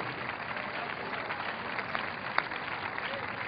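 A church congregation applauds in a dense, continuous wash of clapping that holds steady throughout, with a single sharper clap standing out near the end.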